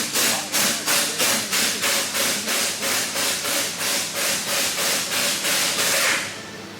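A turbo part from a Toyota JZX100 is scrubbed in a parts washer, with brisk, evenly spaced rubbing strokes, about two per second, loud and close before fading out at the end, with no one speaking.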